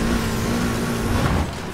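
Steady engine drone of a 2010 Subaru WRX STI rally car in Need for Speed, loud and continuous through the whole moment, easing slightly near the end.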